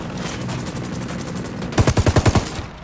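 Gunfire in Ghost Recon Wildlands: a steady noisy backdrop, then a loud close burst of about eight rapid automatic shots in an even rhythm, then the noise settles again.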